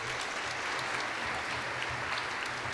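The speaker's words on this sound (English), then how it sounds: "Give everybody a round of applause for coming up here." Applause for children at a church Christmas event, a steady, even wash of clapping from a moderately distant crowd, continuous and fairly quiet throughout.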